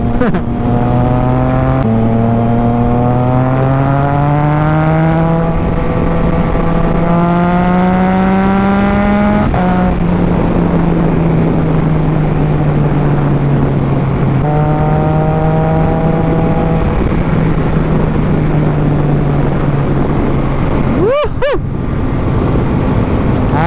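A Triumph Trident 660 three-cylinder motorcycle with a full-system exhaust drones steadily while riding, its engine note rising through gears with brief drops at shifts, loud and continuous with wind rush.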